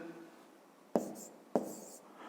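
Pen or pencil on paper during a fifth-grade maths exercise, two short, sharp scratching strokes close by against a quiet room.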